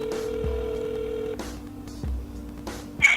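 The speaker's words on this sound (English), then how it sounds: "I'm gonna try and call them one more time." A phone number is dialed to place a call, with distinct touch-tone beeps standing alone in a quiet room and a short tone at the end.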